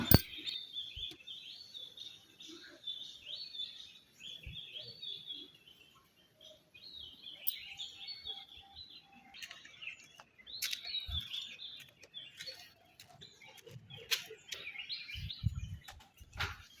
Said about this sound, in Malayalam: എൻ്റെ കിളികളുടെ സൗണ്ട് കേൾക്കാൻ നല്ല രസമാണ് കേട്ടോ അവിടെ